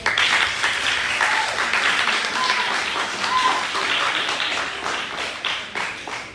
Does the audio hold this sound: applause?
yes